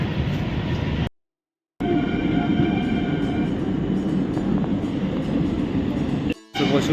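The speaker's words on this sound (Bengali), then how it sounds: "12313 শিয়ালদা নিউ দিল্লি রাজধানী এক্সপ্রেস, তার প্রথম স্টপেজ দুর্গাপুর" The 12313 Sealdah–New Delhi Rajdhani Express running at speed, a loud steady rumble and rattle of wheels on rails heard from inside, with two brief cuts to silence.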